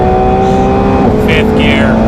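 A 2018 McLaren 720S pulls hard through the gears, its engine note loud and close, climbing steadily with a brief shift around the midpoint, no talking.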